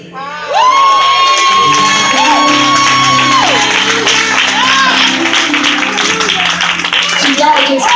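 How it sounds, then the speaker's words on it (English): Church congregation clapping and cheering loudly with whoops and shouts, a dense sustained crowd sound over musical tones, continuous for several seconds. "See, y'all just clapping."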